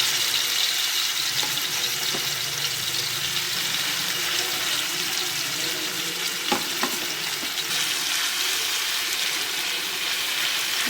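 Masala-coated prawns fry in oil on a dosa griddle, a steady close hiss of sizzling with a few faint clicks and taps of a utensil along the way.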